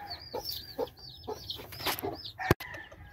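A broody game hen clucks in short repeated bursts while her chicks peep softly around her on a farm, with one sharp knock near the end.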